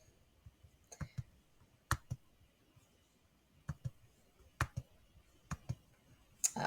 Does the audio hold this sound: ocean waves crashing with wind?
no